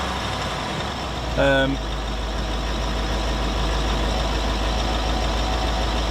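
A Range Rover L322 TDV8 diesel engine idling steadily at 1200 RPM, a constant low rumble nearby, broken once by a brief tonal chime.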